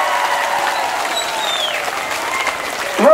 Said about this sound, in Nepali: एकचोटि ताली बजाउनुहोस् तपाईँले आफ्नो लागि आफैले